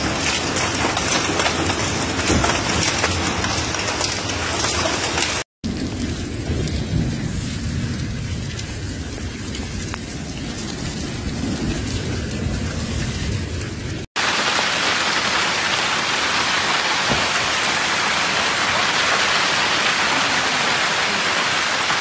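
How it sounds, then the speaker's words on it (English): A violent downpour with heavy rain and hail in the Padua area of Italy, a dense, loud, steady roar of water and pelting ice across the whole span, broken by two brief cuts. "The Padua area was hit on August 1st by a violent downpour, with heavy rain and hailstorms"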